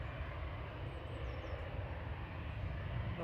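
Aircraft at Manchester Airport, most likely an Air France plane pushing back: a faint, steady engine rumble and broadband roar at a distance, with no voices.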